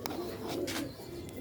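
Sialkoti pigeons coo softly in a low, murmuring drone over steady background noise, with faint scattered chirps and no voices.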